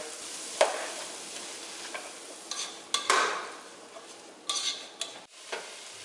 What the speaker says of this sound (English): let's throw the garlic in here. This is about 4, maybe 5 cloves of garlic